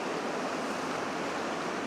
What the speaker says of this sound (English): I've got the beautiful sounds of the water